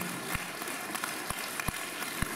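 Audience applause at a jubilee concert evening at a children's art school, a steady dense wash of many hands clapping, moderately loud and continuous, with a few sharper thumps standing out; no talking.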